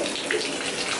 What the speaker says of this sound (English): Let me turn this water back on.